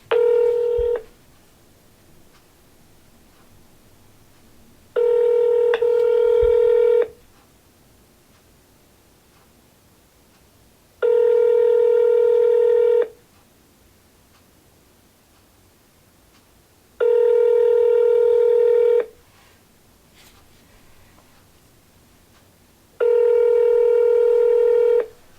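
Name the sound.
telephone dialing tones when calling real estate leads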